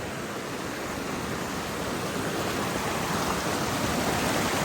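Waterfall on the Shrikhand Mahadev trek near Parvati Bagh, a steady broadband roar of falling water that stays loud and unbroken throughout, with no voices over it.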